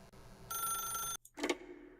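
A telephone rings in The Stanley Parable game, one bright electronic ring burst about two-thirds of a second long, then a short silence and the start of a second ring, close and clear.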